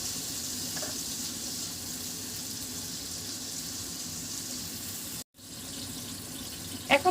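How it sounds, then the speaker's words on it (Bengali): Chopped tomato and onion fry in a hot pan with a steady, close sizzle that holds evenly throughout, broken by a brief drop near the end and a couple of small clinks. "তো এখন আমি টমেটোটা দিয়ে একটু ভাজা ভাজা করব।"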